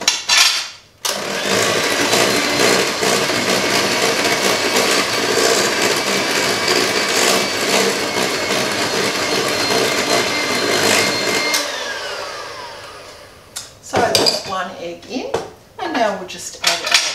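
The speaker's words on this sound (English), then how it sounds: "So I just put one egg in and we'll give it a beat." An egg beaten into Christmas pudding mixture: a loud, steady whirring beat runs for about ten seconds, then stops, followed by scattered clinks and scrapes of a bowl and utensils.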